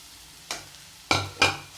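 Bread pieces get stirred into a tomato masala in a pan: three short scraping strokes of a spoon against the pan, close and distinct, over a quiet background.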